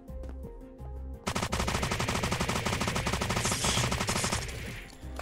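Automatic gunfire from a gun in the survival video game Unturned: a long, rapid burst of loud, closely spaced shots, preceded by a few isolated reports, with no talk.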